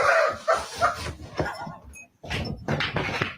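A dog gives short barks and whimpering yips while a cat swats at it. The yelps come in quick bursts, break off for a brief silence, then resume.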